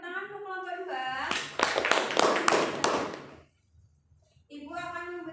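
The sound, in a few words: classroom applause for a group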